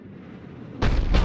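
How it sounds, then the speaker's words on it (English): A Cerberus cannon firing in Mass Effect 3: after a low rumbling lull, a sudden heavy blast booms out loud, followed at once by a second burst. "Looks like Cerberus got that cannon operational, Commander"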